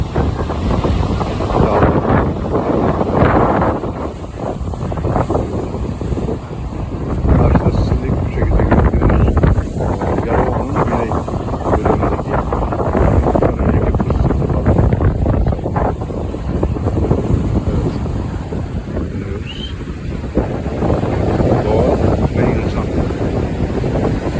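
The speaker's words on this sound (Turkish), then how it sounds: "denizin dalgalarının getirdiği" Sea waves along the shore at Mudanya, Bursa, a continuous broad wash of surf heavily buffeted by wind on the microphone, with speech over it.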